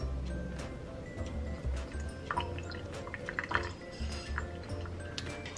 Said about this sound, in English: Now I'm gonna be dumping the water out